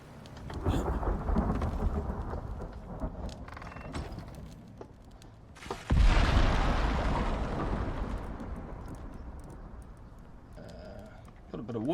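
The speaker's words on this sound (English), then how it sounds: "flash storm. We better get back inside our house and prepare for some lightning." Flash storm in the survival game Icarus: steady heavy rain with rolling thunder, a loud close crack midway followed by a long rumble, with faint talk underneath.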